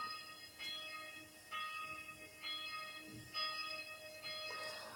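A small church bell, the smallest of a set of ten, rings with bright, sustained metallic tones, struck about five times at a steady pace with each ring overlapping the last, alone.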